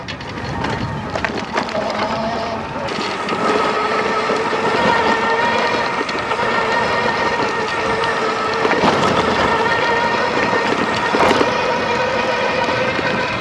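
A homemade electric bike rolls along smoothly with a steady whirring hum and light rattling and clicking from the frame, plus a couple of sharper knocks, all fairly close and continuous.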